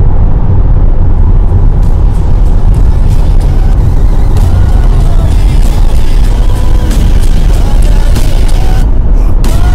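Loud, constant road and tyre roar fills the cabin of a Tesla Model Y Performance cruising on a summer highway, a dense wideband rumble with no letup and no speech.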